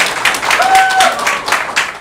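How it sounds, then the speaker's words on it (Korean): A seminar audience claps to welcome a guest speaker: a short, loose round of applause from a modest crowd, close and fairly loud, with a brief tonal whine partway through. "오늘 강사님 모실 테니까 박수 부탁드립니다"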